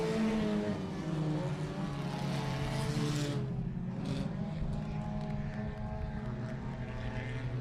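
Race cars at i-37 Speedway, a loud engine roar passing by with rising and falling pitch, one car fading as others drone on steadily under the track noise.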